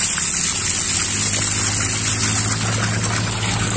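A deepwell submersible pump gushes a strong stream of water in a steady, unbroken rush, with a constant low mechanical hum underneath, close and alone with no talk.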